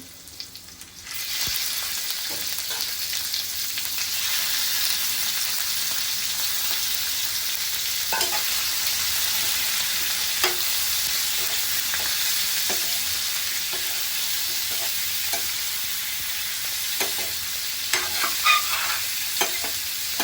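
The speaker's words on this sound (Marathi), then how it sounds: "आता आलं लसूण पेस्ट आपली परतली चांगली त्याच्यामध्ये आपण कोलंबी टाकूया पहिले" Prawns sauté in a pan of ginger garlic paste, a steady loud sizzle running throughout, with scattered scraping stirs and faint clicks near the close and no talking.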